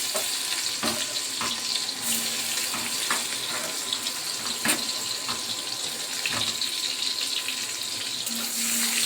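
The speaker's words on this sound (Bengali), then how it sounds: "কালো জিরে ফোড়ন দেবো, দিয়ে দেবো।" Black cumin seeds tempering in hot oil for an egg mustard dish, a steady soft sizzle with intermittent sharp crackles and pops. There is no talk.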